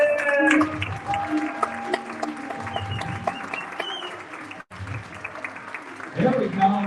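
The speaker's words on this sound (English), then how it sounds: "So start clapping your hands." Church audience clapping along with music at a worship service, a steady dense patter of many hands under a band and a voice calling out, briefly cutting off before resuming with louder cheering near the end.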